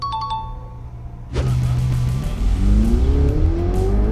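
A car engine surges as the driver accelerates hard on a Dubai road, its pitch climbing steadily and loudly after a quieter opening, with a faint chime-like tone at the start.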